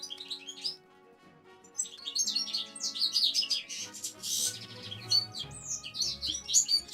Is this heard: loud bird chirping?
yes